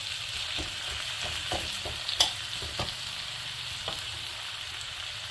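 Spices sizzle and fry steadily in a hot pan for a dish of bottle gourd cooked with a fish head, with scattered stirring scrapes and clinks over a constant hiss and no voices.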